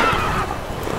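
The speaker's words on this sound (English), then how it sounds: "There are two horses without any owner." A horse in The Witcher 3 gives a short whinny, close and fairly loud, heard alone in a brief burst.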